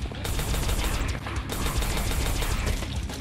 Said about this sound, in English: Funny how this gun reloads.